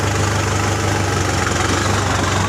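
A Kubota M6040 tractor engine runs close by with a steady, throbbing diesel idle and no talk.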